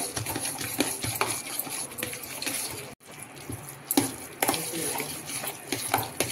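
Curd rice with melting butter being mixed in a bowl: a close, wet, squelching stir with clinks of a utensil and a short pause partway through.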